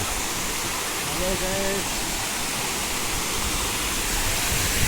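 A waterfall roars as a steady, loud wash of falling water that barely changes, with a brief murmur of voices beneath it.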